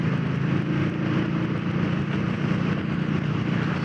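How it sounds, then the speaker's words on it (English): Indian Scout motorcycle with its stock exhaust runs at a steady, continuous engine drone, a dense rumbling growl heard up close while riding, with wind and road noise mixed in and no pauses. "Good sound on it as well for a stock exhaust."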